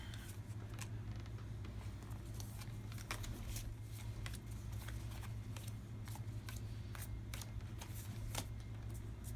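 Cards for the board game Disney Villainous being shuffled by hand: a long, steady riffling and sliding of card stock, with repeated crisp flicks and snaps over a constant low background hum.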